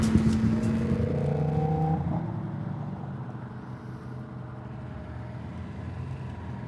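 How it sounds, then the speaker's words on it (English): A Lamborghini Huracán engine revs on a winding mountain road, its pitch climbing and falling, then fades into a steady low rumble of road and wind noise. "The Lamborghini always barks. It's just a loud engine even when idling"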